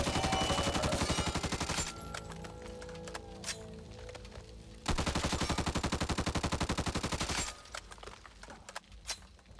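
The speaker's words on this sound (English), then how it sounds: "Now for the final fully automatic assault rifle in Back 4 Blood, we've got the M4 Carbine." M4 Carbine assault rifle in Back 4 Blood firing fully automatic in two long, loud, close bursts of rapid rounds, the second followed by a reload-like clatter of mechanical clicks.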